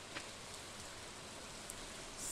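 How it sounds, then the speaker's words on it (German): Steady rain falls in Stardew Valley, a soft continuous hiss of drops with no talk over it. "So, es regnet,"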